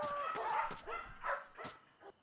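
A dog in the Roblox video game yips and barks several times in quick, high-pitched bursts, fairly close and clear.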